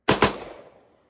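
Two quick rifle shots from a gun fitted with a binary trigger, firing once on the pull and once on the release, loud and close, with a short echoing decay trailing off after the pair.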